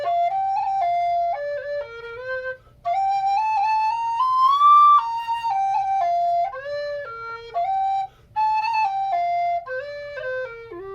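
A Burke tin whistle plays a bright, clear melody of stepping notes with a few short pauses between phrases, close and solo over a faint low hum.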